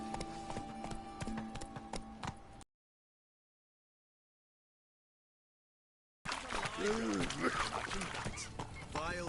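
Horse hooves clip-clop steadily as a mount is ridden in a PS4 game, amid game ambience and voices, cut by several seconds of dead silence before the rhythmic trotting and talk resume.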